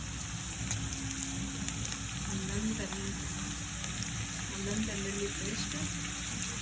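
Ginger garlic paste frying in oil with golden-fried onions for a spicy Chettinad pepper chicken, giving a steady, moderately quiet sizzle that crackles throughout without pause.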